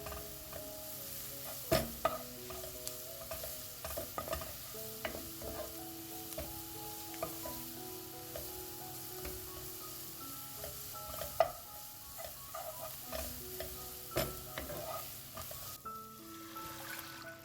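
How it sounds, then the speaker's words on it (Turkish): Flour and grated carrot roast in a soup pot, a continuous soft sizzle broken by repeated spoon scrapes and stirring clatter against the pot, close with no talking. "1 yemek kaşığı dolusu unu üzerine ilave ediyorum ve un kokusu çıkıncaya kadar kavuruyorum"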